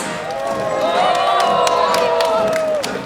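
Applause and cheering from an outdoor crowd at a border-town festival, with whoops and a mix of voices rising over the clapping for a few seconds.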